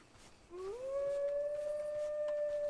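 A wolf howl from the Bigfoot video game rises briefly and then holds one long, steady wailing note, alone against a faint hiss of background.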